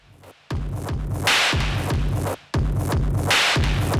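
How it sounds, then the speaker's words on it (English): A steady, punchy kick drum thumps on every beat under a loud, dense electronic mix, driving and repetitive, run through a modular soft-limiting mixer. "Let's bring the kick drum in with it."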